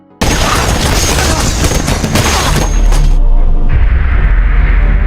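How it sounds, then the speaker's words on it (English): Film gunfire as the general's men shoot Aldrich: a loud, sustained burst of rapid shots and booms that cuts off and gives way to a lower rumble. "They shot Aldrich until he died."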